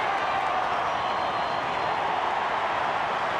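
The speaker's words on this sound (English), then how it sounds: "Listen to the crowd." A large Australian football crowd at a 1998 West Coast Eagles versus Western Bulldogs match roars continuously, a dense, steady wash of cheering and noise with no distinct breaks.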